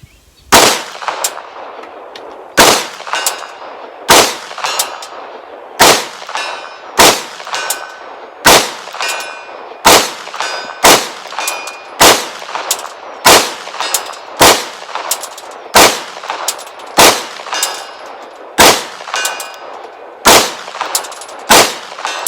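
Bear Creek Arsenal Grizzly 9mm pistol shots ringing off steel targets at up to 100 yards: about eighteen sharp, loud reports with metallic clangs, fired at a steady pace of roughly one per second, with no talking.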